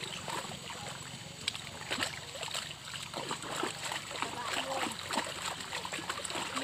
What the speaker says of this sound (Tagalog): Bumabalik yung tubig.